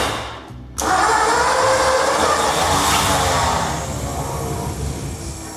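Car engine cranking with the starter spinning and failing to keep running: a brief click, then an abrupt loud whirring grind that holds steady for several seconds and gradually softens.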